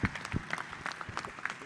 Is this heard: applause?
yes